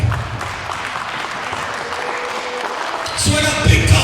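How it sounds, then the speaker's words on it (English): Sustained crowd applause at a stunt studio fight-club tryout, many hands clapping steadily, with a burst of louder noise and voices rising near the end. "let's get a real quick round of applause for the bald guy"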